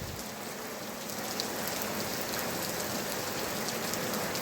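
Rain falls steadily on surfaces outdoors near a pumpkin field, a dense, constant hiss of drops that grows slightly heavier after the first second and continues evenly with no voices.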